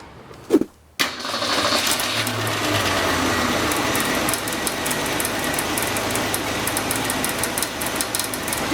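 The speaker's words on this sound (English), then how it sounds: "The fan is rubbing against the shroud" A radiator fan spinning in a running car engine after the fan shroud was refitted, the blades rubbing against the shroud: a steady loud mechanical whir with fine rapid ticking, starting abruptly after a brief knock.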